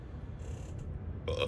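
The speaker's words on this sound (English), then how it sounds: "I'm burping." One short, low burp rumbles close to the microphone in a quiet room, followed by a faint breathy noise at the end.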